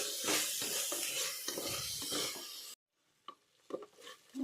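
Close stirring of vegetables with coriander powder and garam masala in a pan, a steady scraping rustle that stops abruptly, followed by a few faint scrapes and taps.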